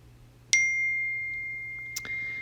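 A phone notification sounds twice: a bright, clear ding that rings out and slowly fades, then a second shorter chime, over quiet room hum.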